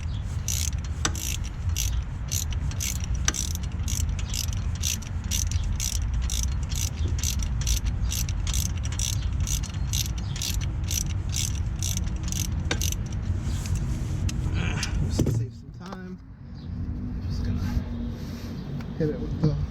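A hand ratchet clicks in a fast, regular series as it snugs up the lower engine mount bolt on an Audi Q3 2.0T, close and clear, then stops as handling noises take over near the end.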